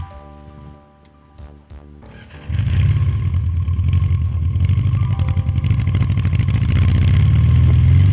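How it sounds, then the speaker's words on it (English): A motorcycle engine with a frozen carburetor sputters to life after a few quiet moments, then idles low with a loud, steady, pulsing rumble in snowy conditions. "She's idling really low. Probably because the carburetor is still frozen."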